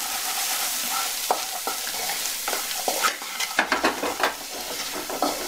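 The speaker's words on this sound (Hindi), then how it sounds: "इसे मिक्स कर लेंगे हम।" Cooked spicy green peas with chaat masala and chili flakes stirred in a pan after the gas is turned off, a spoon scraping and clinking in quick strokes over a faint sizzle.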